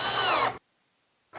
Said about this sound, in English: I'm gonna get the outside box screwed in